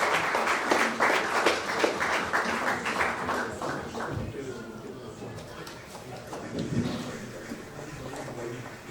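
Applause from the audience at a cricket league pool draw ceremony, dense clapping loudest at the start and tapering into a softer, thinner patter with some background voices.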